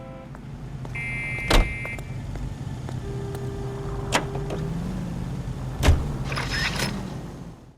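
A car rumbling along in L.A. Noire, with a low steady engine drone, a couple of sharp thumps and mechanical clicks, and faint scattered tones over the hum, no talking.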